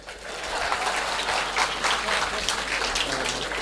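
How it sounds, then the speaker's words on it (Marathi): An audience at a speech applauds in a dense, steady patter of clapping that carries on throughout at moderate loudness, with voices mixed in. "वाजवा टाळ्या."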